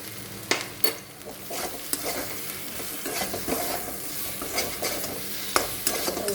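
Spice paste with ground garam masala frying in a pan for katla fish kaliya, stirred with a spoon: a continuous low sizzle under repeated scraping and tapping strokes at an uneven rhythm.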